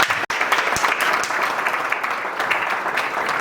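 Steady audience applause for a state senator being introduced at a formal event, dense continuous clapping from a room of people, fairly loud and unbroken throughout.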